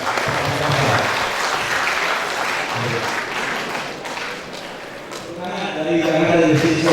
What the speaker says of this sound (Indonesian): Tepuk tangan untuk Pak Profesor.